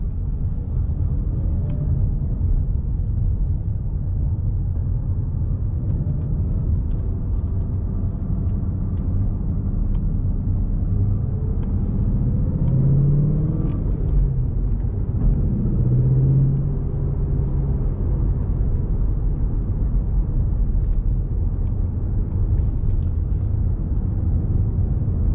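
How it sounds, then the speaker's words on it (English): A Ford Mustang GT rolls over road bumps, a deep continuous cabin rumble with low engine drone and a few soft thumps from the suspension partway through, with no talking. "We're going over these bumps."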